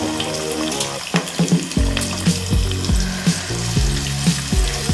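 Green chillies and onions frying in a pan for a fish gravy curry, sizzling with sharp crackles and pops in irregular bursts, loud and close.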